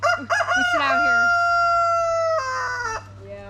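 A Whiting True Blue rooster in a hen house gives one long, loud, drawn-out crow close by, with its harmonic call held steady and then dropping into a final falling note.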